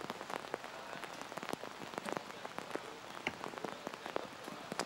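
Steady rain pattering outdoors at an archery venue during a men's recurve quarterfinal, with dense drops hitting surfaces and a few sharper close taps standing out over the continuous hiss.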